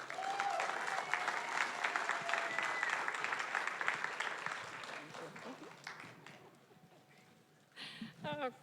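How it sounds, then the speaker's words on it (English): Audience applause for the two Westport Rotary presidents at an event in the Westport Library, a steady dense clapping that fades over several seconds, with faint voices in the crowd and a brief burst of noise at the end. "please give a round of applause for Goldie James and Katie Augustin"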